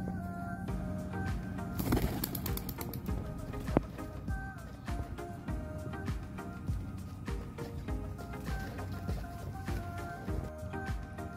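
Racing pigeons, including one named Kadog, are tossed and fly off outdoors, with faint cooing, a burst of wing flutter near the start, and scattered clicks over a soft, steady outdoor background.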